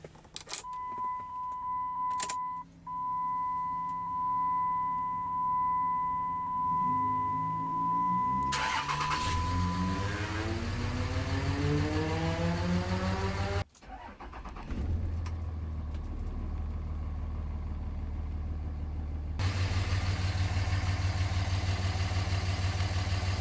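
A 2006 Dodge Ram 2500 pickup's 5.9-liter Cummins diesel engine cranks and rumbles to life, then settles into a steady, deep idle; an electronic chime sounds early on and the engine is briefly shut off and restarted.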